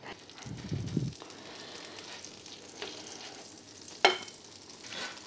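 Kobe beef cooking in a pan, a soft continuous sizzle and hiss held close but quiet, with a low thump early on and a sharp clatter midway.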